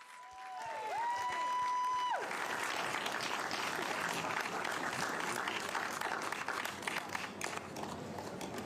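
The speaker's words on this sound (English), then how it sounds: "Big round of applause for our 4-kilometre champions." A crowd at the Gold Coast Marathon applauds the winner of a 4-kilometre wheelchair race, dense sustained clapping after a brief opening of whistle-like tones, with a voice faintly mixed in underneath.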